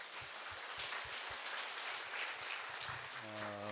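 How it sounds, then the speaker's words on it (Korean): Applause from a church congregation at a Friday evangelism school service, a steady wash of clapping filling the room, with a low tone or chord entering near the end. "영광의 박수로 드리겠습니다"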